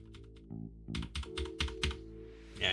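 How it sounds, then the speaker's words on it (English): Keyboard typing inside the video game SCP-245, a series of sharp clustered key clicks and button mashing in quick bursts, heard alone over a low steady game hum. "I know you get to hear the good old typing"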